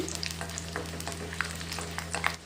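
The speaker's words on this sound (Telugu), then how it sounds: "ఇలా మినపప్పు ఆవాలు ఫ్రై అవుతున్నప్పుడే" Urad dal and mustard seeds fry in hot oil for a tamarind chutney tempering, with a steady close sizzle and scattered tiny pops and crackles. A low hum runs underneath, and the sizzle fades at the end.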